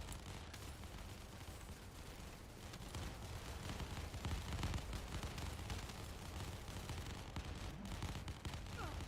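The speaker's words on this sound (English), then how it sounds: "It sounds like a firecracker. Yeah, that's because I'm at max fire rate." A video game weapon firing at maximum fire rate, a dense continuous rattle of rapid shots like a string of firecrackers, fairly faint and steady throughout with no talking.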